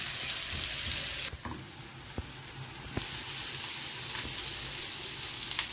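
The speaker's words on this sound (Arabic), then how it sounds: "هقطع بصلة كده صغير بالشكل ده، وهسيبها كده اشوحها لحد ما" Finely chopped onion sizzles steadily in hot ghee in a pan for shakshuka, a close, even frying hiss with faint clicks and stirring scrapes.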